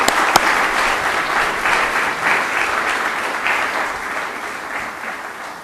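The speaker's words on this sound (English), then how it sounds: "let's give these folks a round of applause" Sustained applause from a lecture-hall audience at a memorial lecture, dense even clapping that holds steady for several seconds and slowly tapers toward the end.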